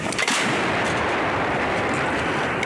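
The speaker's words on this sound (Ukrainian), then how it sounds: "Гармата постріл!" Heavy howitzer artillery fire from a towed howitzer, a dense continuous roar of booming blasts and rumble filling the whole stretch, loud and close.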